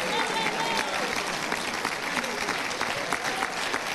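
Church congregation applauding during a Sunday fellowship service, steady dense clapping that fills the whole stretch without a break, loud and close.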